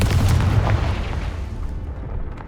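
Casting Confringo in Hogwarts Legacy unleashes a heavy rumbling blast that starts loud and gradually tapers off, with deep booms and scattered crackles and no voices heard.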